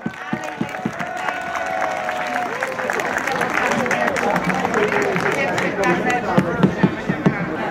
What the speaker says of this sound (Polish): Jeszcze raz wielkie brawa dla zwycięzcy.